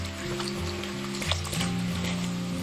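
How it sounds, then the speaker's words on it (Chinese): Beer is poured over hot pig trotters in a pressure cooker, and a steady, close sizzle and hiss carries on for a couple of seconds. "倒入1瓶啤酒，"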